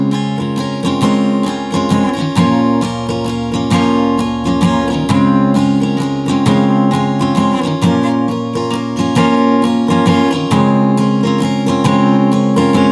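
A guitar plays the chords of an interlude from a song, strummed close and loud with a steady pulse and full sustained harmonies throughout.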